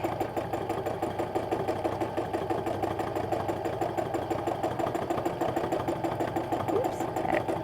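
A sewing machine runs steadily and close up during free-motion stipple meander quilting, a fast even rattling hum that carries on unbroken throughout.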